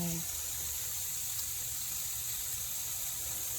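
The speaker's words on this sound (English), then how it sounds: "just getting some water in" Water runs steadily from a tap into a pot, a soft, continuous hissing rush at low volume with no voices over it.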